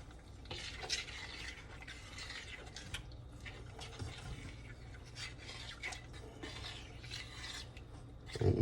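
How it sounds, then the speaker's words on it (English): Butter infused with cannabis being stirred in a pan, a steady scraping, rubbing rasp with rhythmic strokes throughout, fairly quiet and close, with no talking. "Most important, you want to stir the butter in well."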